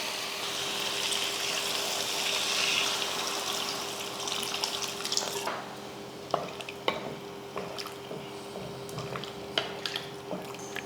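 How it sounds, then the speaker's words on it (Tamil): Water pours and gushes steadily into a cooking pot of sambar at first, then gives way to quieter clinks and stirring sounds. "தண்ணி சேர்த்துருவோம்"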